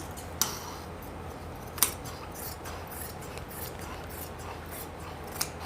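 Scissors snip through leftover fabric from palazzo pants, giving a few sharp, close cuts spaced a second or more apart over quiet room tone.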